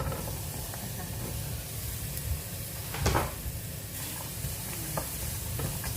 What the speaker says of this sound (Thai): แล้วก็คั่วพริก